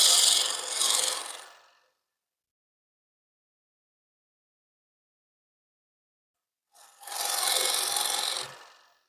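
A cloth rubs beeswax and mineral oil onto a freshly sanded wooden top, making two separate bursts of brisk, close, hissing friction with a long silence between them.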